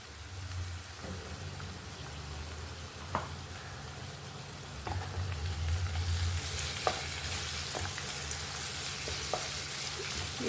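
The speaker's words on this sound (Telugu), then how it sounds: "ఇది కొంచెం పచ్చి వాసన పోయే వరకు వేపాలి." Ginger garlic paste frying with onions and turmeric for a potato curry, a soft continuous sizzle with occasional spoon clicks against the pan, growing slightly louder midway, no talk.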